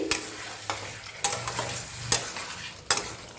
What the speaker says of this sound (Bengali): এবার তরকারিটা এর মধ্যে ঢেলে দিচ্ছি ভালো করে মিশিয়ে নিচ্ছি